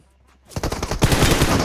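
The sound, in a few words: gunfire in the video game PUBG Mobile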